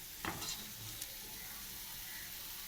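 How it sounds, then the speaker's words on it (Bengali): Pumpkin fritters frying in hot oil give a faint, steady sizzling hiss, with a few soft stirring clicks near the start and no voices. "অপূর্ব ভাজা হয়েছে, অপূর্ব, খুব সুন্দর ভাজা হয়েছে"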